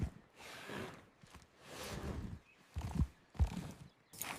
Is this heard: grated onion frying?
no